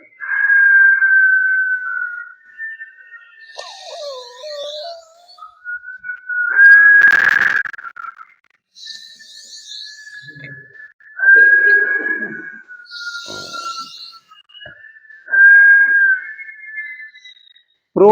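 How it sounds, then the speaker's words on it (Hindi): Long, steady whistled exhales blown through the mouth during a seated yoga breathing exercise, several drawn-out tones repeating with short pauses and soft breathy noises between them, close and fairly loud. "मुंह से सीटी बजाते छोड़ना है"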